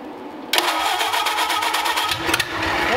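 A hot rod Ford Model A engine cranks and catches, then settles into a rough, uneven mid-pitched running rumble that stays loud and close; no one speaks.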